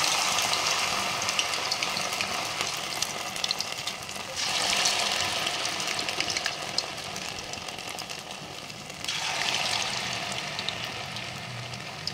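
A second batch of vadas frying in hot oil gives a steady, dense sizzle that swells louder twice as more batter goes in, with no talking over it.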